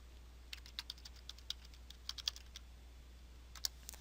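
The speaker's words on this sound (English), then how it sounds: "I can just click in the box there, type the name of a tag," A tag name is typed on a computer keyboard in quick, irregular bursts of soft, close keystrokes, with a few separate taps over a faint steady hum.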